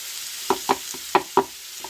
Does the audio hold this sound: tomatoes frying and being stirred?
yes